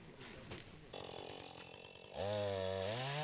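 A chainsaw cutting fallen timber during a flood-response rescue drill revs up loudly over background noise and faint voices, its engine pitch rising and holding as it bites into the cut.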